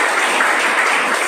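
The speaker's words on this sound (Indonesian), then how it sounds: "Berikan tepuk tangan bagi Tuhan" A church congregation at a Sunday worship service applauds God with a brief, dense wash of clapping, steady and moderately loud with no clear individual claps.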